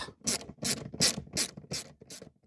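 Close ratchet clicks in six quick bursts as a socket backs out rear seat bolts on a Ford Mondeo Mk3, loud and alone with no talking.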